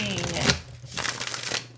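Tarot cards are shuffled by hand on a small table in quick riffling bursts, a crisp papery rush followed by two or three shorter flutters, close and fairly loud.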